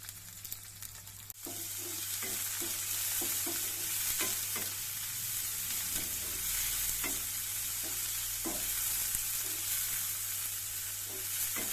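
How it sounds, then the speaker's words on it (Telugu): Finely chopped onions hit hot oil with garlic in a pan for a spinach-leaf fry, a sudden start then a dense, steady sizzle with light stirring scrapes throughout. "సన్నగా తరిగిన ఉల్లిపాయ ముక్కలు వేయాలి"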